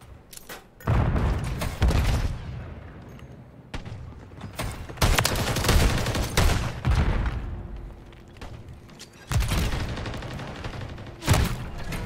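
Video game gunfire from the player's own weapon: repeated loud shots and rapid bursts with heavy thumping booms, separated by short quieter gaps.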